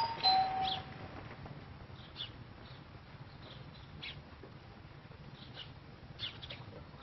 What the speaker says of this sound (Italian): Proviamo a suonare, a vedere se risponde, se c'è il campanello